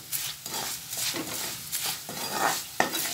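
Spoon stirring a spice masala of turmeric, pepper and chilli powder for tuna pickle, making a run of scraping, clinking strokes close by with small metallic taps, and no talking.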